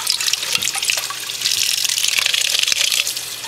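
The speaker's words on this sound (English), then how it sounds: "with some running water" Tap water running steadily into a bucket while rinsing hand-dyed wool roving, a continuous close splashing gush with no voices.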